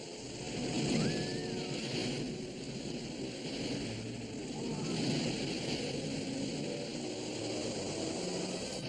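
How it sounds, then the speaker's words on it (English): Ocean waves in an animated Bible cartoon about Noah's Ark wash and roar in a continuous, moderately loud surge, with rushing wind-like noise and a faint high tone early on. "The waves are reaching us."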